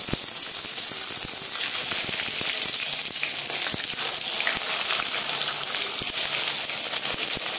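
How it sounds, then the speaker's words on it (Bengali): Tomatoes frying in hot mustard oil in a wok give off a steady, close sizzle with a bright hiss and scattered small pops and crackles throughout. "এর মধ্যে আমি দিয়ে দিচ্ছি এই যে টমেটোগুলো।"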